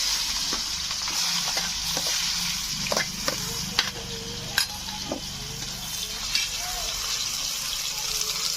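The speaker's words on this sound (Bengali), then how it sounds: "পেঁয়াজগুলো ব্রাউন মতন ভেজে নিয়েছি লাল লাল করে" Chopped onions frying in oil with dried chillies and whole cumin while being stirred: a steady loud sizzle with occasional scraping taps of a spoon against the pan.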